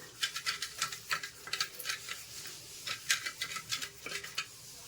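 Yogurt being whisked with a spoon in a bowl, rapid rhythmic wet clicks and scrapes in quick bursts, close up and fairly soft, with no talking.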